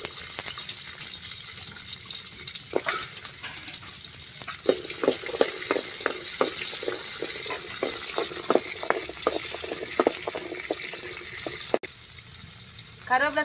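Onions frying in oil with fenugreek seeds, a steady sizzle broken by a run of sharp clicking spatters and pops through the middle, close and moderately loud.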